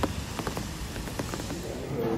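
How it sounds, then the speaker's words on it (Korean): Rain falls steadily in a town during a water outage, a dense patter of drops on surfaces close by with scattered sharper taps and no voices. "비가 오네요."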